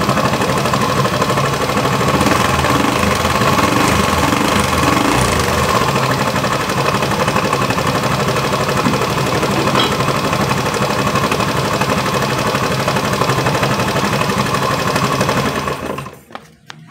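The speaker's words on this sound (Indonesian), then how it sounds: "kerusakan suara kasar pada motor ini" A Honda Vario 110 FI scooter engine with a rough-running fault runs loud and rough with a fast rattling clatter, steady for a long stretch before cutting out abruptly near the end.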